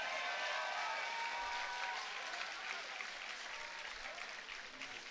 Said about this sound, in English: how about a nice round of applause for these 2 great warriors